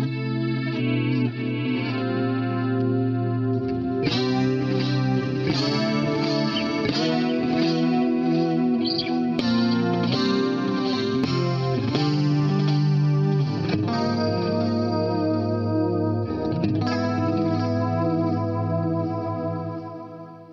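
Clean electric guitar run loud through a 1970s Marshall amp with stereo chorus on top, sustained chords and melodic lines with a wavering, shimmering tone, steady and close throughout.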